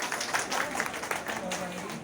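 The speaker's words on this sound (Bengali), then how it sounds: "ওনাকে আমরা অভিনন্দন জানাই। একটু করতালি দেই সবাই" Audience applause at a Dhaka literary conference held by the Daily Oishi Bangla newspaper: a steady wash of many hands clapping, fairly close and continuous for about two seconds, with faint voices mixed in.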